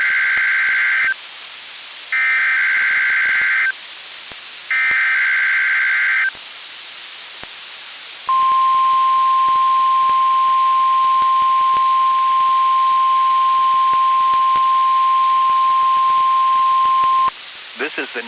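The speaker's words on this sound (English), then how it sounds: "The tones you just heard were a test of the specific area message encoding and tone alert systems." NOAA Weather Radio EAS test from the National Weather Service in State College, Pennsylvania: three loud bursts of SAME header data with gaps, followed by a long steady single-pitch alert tone lasting about nine seconds, then a short data burst, heard alone.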